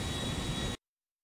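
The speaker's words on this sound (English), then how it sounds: "This is how you fly planes." Airbus A380 jet engines in the GTA V video game: a steady, loud broadband roar with a high whine, running alone for under a second before cutting off abruptly to silence.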